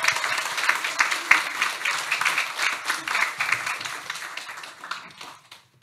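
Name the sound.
congregation applauding to welcome speaker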